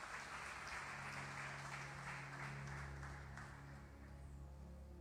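Steady applause from a church congregation, dense and continuous, heard at a low level with a faint hum underneath.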